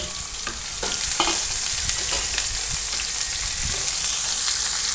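Onions and cumin frying in hot oil for salted rice make a loud, dense, unbroken sizzle right up close, with small crackles and a few stirring scrapes, and no talking.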